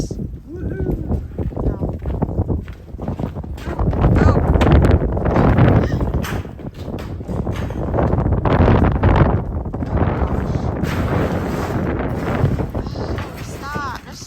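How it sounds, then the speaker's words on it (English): A big gust of wind buffets the microphone outdoors at an off-grid barn build site, swelling into strong roaring rumbles, while people talk and cheer over it. "Here comes a big wind burst."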